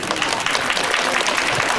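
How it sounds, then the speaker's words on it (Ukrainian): Loud, dense applause fills a school ceremony marking the last bell of the primary school year, a steady wash of many hands clapping without a break. "Привітали їх гучними оплесками."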